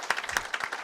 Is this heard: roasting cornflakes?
no